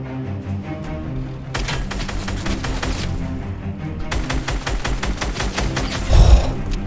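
Hand cannon gunfire in Fortnite rings out as a rapid run of sharp, loud shots in bursts, with a heavier boom near the end, over game background noise.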